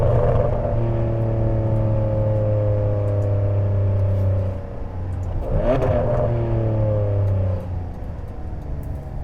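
A 2009 Ferrari 599 GTB Fiorano engine revving while driving: a loud, rising tonal whine climbs through the gears, drops briefly around a shift and then climbs again before easing off, close and alone without talk.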